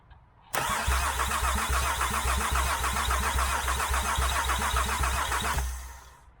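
A car engine cranks on the starter for about five seconds during a cylinder compression test, a loud rapid rhythmic churning that starts abruptly and then stops.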